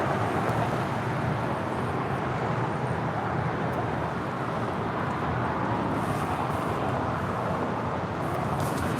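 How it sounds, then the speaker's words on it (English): JetBlue Airbus A321 arriving at LAX from JFK, heard as a steady, loud, broadband roar of jet engines that holds constant throughout. "Coming in from JFK, this is JetBlue Flight 2123 in this A321."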